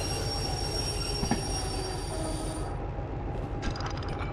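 Steady rumble and high metallic wheel squeal from a locomotive hauling a long military freight consist in Derail Valley. The squeal cuts off near the end, leaving lighter clicking, with no talk.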